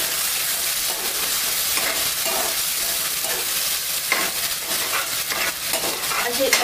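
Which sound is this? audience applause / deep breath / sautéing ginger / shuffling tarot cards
sautéing ginger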